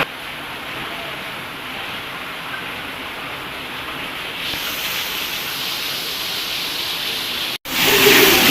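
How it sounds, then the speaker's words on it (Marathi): Heavy rain falls steadily outside a home in Thane, a dense broadband hiss of downpour that holds throughout, growing louder partway through, with a brief cutout near the end. "बाहेर पाऊस पडतोय भरपूर."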